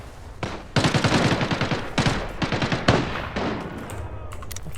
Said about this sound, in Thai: ยิงกันใหญ่เลยครับ ข้างนอกนะ